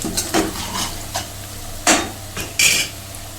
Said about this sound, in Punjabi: ਹੁਣ ਅਸੀਂ ਪਾਵਾਂਗੇ ਟਮਾਟਰ ਦੀ ਪਿਊਰੀ ਹੁਣ ਅਸੀਂ ਇਹਨੂੰ ਭੁੰਨ ਲਾਂਗੇ